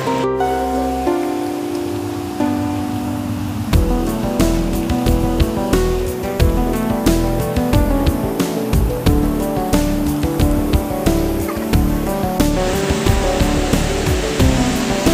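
Rushing river water roars steadily and loudly without a break, and no voices are heard.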